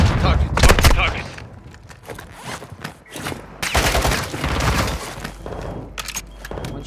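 Video game gunfire, bursts of rapid shots and single cracks at varying distances mixed with rustling and footsteps, with players talking over it.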